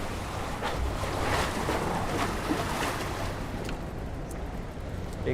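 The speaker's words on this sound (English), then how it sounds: "You can just hear the water everywhere." River water on the Hudson/East River in Manhattan laps and sloshes against a pier during high water, a continuous close wash of splashes with light wind on the microphone and no talking.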